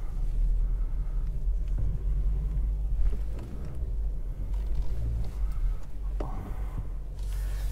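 Inside a Kia XCEED with a 1.5 T-GDI petrol engine and six-speed manual, a low steady idle rumble sits beneath quiet cabin clicks and handling noises.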